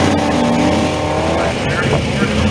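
Hilborn fuel-injected 1962 Pontiac Tempest race car with chrome chambered exhaust, its engine roaring loud and steady at close range throughout, with crowd noise and voices underneath.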